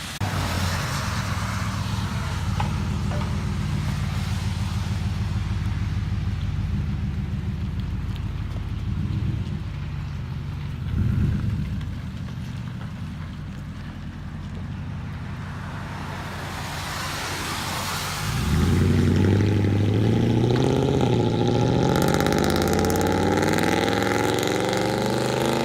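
A Toyota Tundra with the 5.7-liter V8 idles with a steady low exhaust rumble, then revs up loudly near the end with a rising engine roar.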